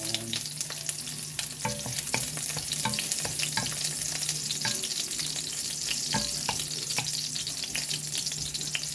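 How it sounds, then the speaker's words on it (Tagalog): Garlic frying in hot cooking oil gives a steady, close sizzle that continues without a break, with scattered clicks and scrapes of stirring throughout. "nagpainit na tayo ng mantika. Lalagay na natin ang bawang."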